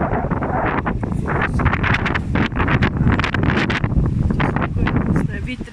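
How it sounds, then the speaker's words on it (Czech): Gusty wind buffets the microphone at Grabštejn castle, a loud continuous roar with irregular blasts, while people speak over it. "Vítr je tady."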